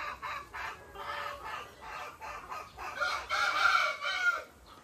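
Layer chickens in a laying building cluck and call in repeated overlapping bursts, a flock sound that swells louder toward the end, close by and without talk.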